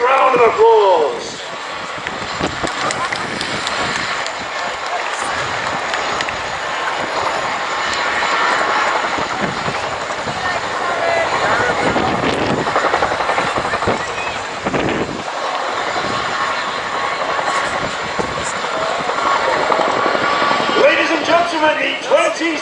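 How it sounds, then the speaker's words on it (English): A Royal Air Force Chinook display helicopter at the 2017 Cosford airshow gives a continuous, loud rotor and engine roar. The sound holds steady for over twenty seconds, with a commentator's voice over it. "The 2017 Royal Air Force Chinook display team."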